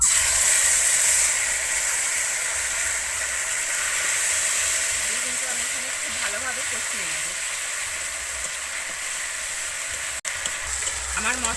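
Cumin seeds, dried chillies and ginger paste fry in hot oil for a Bengali jackfruit and potato curry, producing a constant close hissing sizzle that runs throughout while someone talks softly over it.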